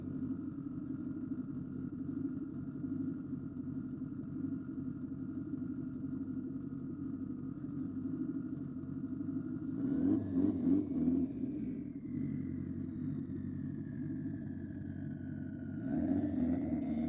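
BMW and Ford Falcon cars drag racing at a street-car meet: a steady low engine drone, then a louder engine pass swells with a rising whine midway and returns briefly near the end.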